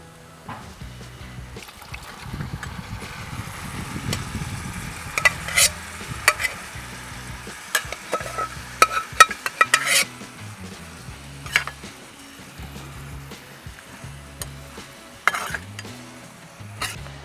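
Cooked beef being stirred into a pan with spice powders for a Kerala-style beef fry, with steady sizzling, scraping spoon strokes and occasional metallic clinks against the pan, close and continuous, no voices.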